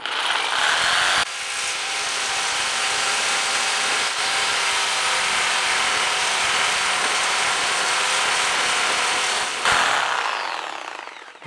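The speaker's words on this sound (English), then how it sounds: "All right, so I got my reciprocating saw for this job." A reciprocating saw fitted with a Diablo blade cuts through a solid metal bar on an old frame, a loud, steady buzzing grind that runs almost unbroken for about eight seconds, with short pauses at start and end.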